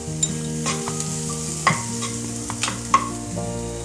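Carrots fry with ginger paste in a pan: a continuous sizzle broken by several sharp utensil clinks and scrapes at irregular intervals, close and fairly quiet.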